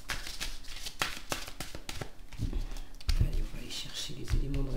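Tarot cards are drawn and flipped from a deck with crisp slaps and shuffling rustles, close and busy, while someone speaks over the handling.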